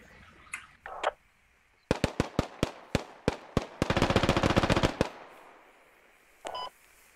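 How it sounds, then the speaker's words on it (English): Gunfire in the military shooter game Squad, a rapid string of sharp separate shots followed by a dense sustained burst, loud and close, with a few fainter clicks and beeps before and after and no talking. "What are they shooting at?"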